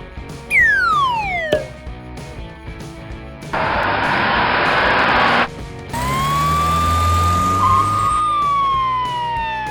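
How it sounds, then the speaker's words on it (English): A cartoon monster ambulance siren from a children's vehicle game, a loud wailing electronic siren that sweeps and holds, broken by short pauses, with a rushing burst of noise in between. "Find the monster ambulance."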